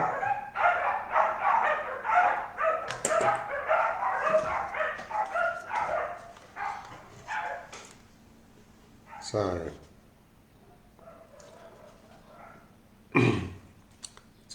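Dogs bark a few times in a home, sharp distinct barks standing out in the quieter second half after a stretch of close talking.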